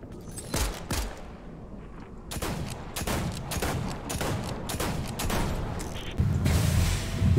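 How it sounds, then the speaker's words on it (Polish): A six-shooter revolver fires in Fortnite: a rapid run of loud, close gunshots with mechanical clicks between them, ending in a denser burst of noise. "jest jakiś rewolwer. Sześciostrzałowiec. Bardzo dziwnie to strzela."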